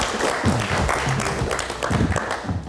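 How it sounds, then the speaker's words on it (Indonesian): Studio audience clapping for a guest on a live Indonesian TV talk show, a moderate steady patter of applause filling the room. "Boleh tepuk tangan sekali lagi untuk Mas Ruby Alamsyah"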